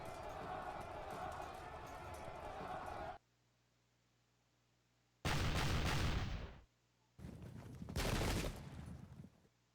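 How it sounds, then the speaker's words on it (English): Close-range musket volleys in the Pike and Shot video game's Prestonpans 1745 battle, loud dense bursts of gunfire arriving in two separate blasts after a sound-heavy opening and a quiet gap. "We'll have to eat a close range volley to the face here."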